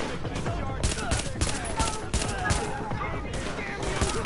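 Rapid bursts of automatic gunfire and overlapping shots from a third-person shooter video game, The Division, dense and continuous throughout with short volleys layered together and voices chatting faintly underneath.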